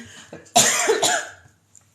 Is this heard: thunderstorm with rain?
no